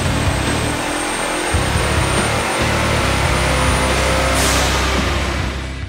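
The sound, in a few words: turbocharged 2010 Ford Mustang running on a dyno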